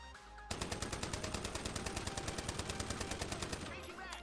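A QBZ 95 assault rifle fires in the Ironsight shooter's gun range, one sustained rapid automatic burst of about three seconds with evenly spaced cracks, loud and close, after a short quiet lead-in and trailing off at the end.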